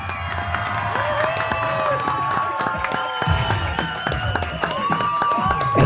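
A television studio audience cheers and claps wildly for a singer, with sustained shouting, whistles and overlapping excited voices filling the room at close range.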